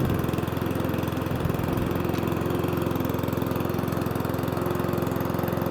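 A Cobra MX460SPC petrol lawnmower engine idles steadily, a close, continuous low putter with an even rhythm and no talk over it.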